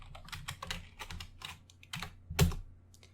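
Python code being typed on a computer keyboard: quick, close clusters of light key clicks with short gaps and one harder keystroke near the end.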